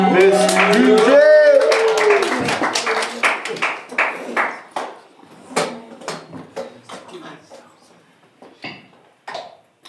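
An audience applauds a DJ at a writing session event. A loud burst of clapping mixed with cheers and voices comes first, then it thins into scattered, separate claps that fade out over several seconds.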